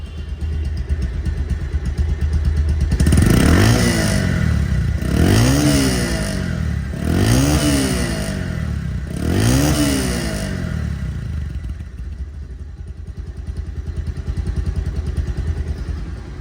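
A 2024 Pulsar DD ABS motorcycle engine idles steadily, then revs up and falls back four times in a regular rhythm, close and loud, with no talking.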